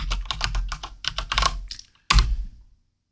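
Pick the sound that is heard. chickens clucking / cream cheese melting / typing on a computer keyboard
typing on a computer keyboard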